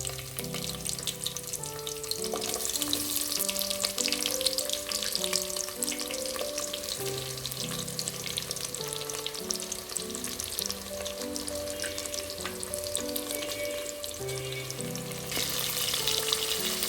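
Long-cut sliced onions sizzle steadily in a hot pan for tomato rice, a continuous close frying hiss with occasional stirring, while soft background music plays and no one speaks.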